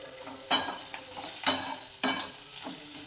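Stuffed bitter gourd (karela) fries in a pan, a soft sizzle under three distinct bursts of stirring as a utensil scrapes and turns the pieces, each followed by fainter shuffling, with no talk.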